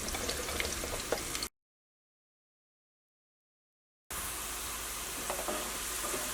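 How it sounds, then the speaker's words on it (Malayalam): Onions frying in sunflower oil give a steady, close sizzle with occasional stirring clatter, broken by a stretch of total silence before the frying resumes. "ഞാനിവിടെ സൺഫ്ലവർ ഓയിലാട്ടോ ഇത് വറുത്തിട്ട് എടുക്കുന്നത്,"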